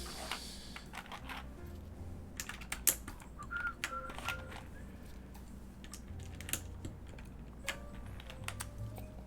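A KIRA EXS mechanical keyboard is typed on, including the backspace key. Crisp, close key clicks come in irregular bursts, with a few sharper, louder presses standing out.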